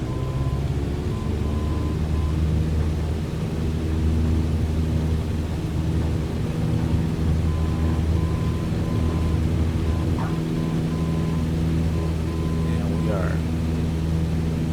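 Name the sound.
Cessna 170 engine at full throttle, MSFS2020 video game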